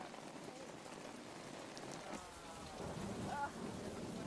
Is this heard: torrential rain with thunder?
yes